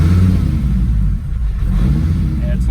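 Volvo 850 fitted with 2200cc injectors and a fresh base tune, its engine running rough: a loud, close, continuous low-pitched rumble with uneven, lumpy pulsing and some mechanical clatter, heard alone.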